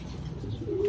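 Caged pigeons coo in soft, low, rolling murmurs close by, a continuous throaty burble without talk.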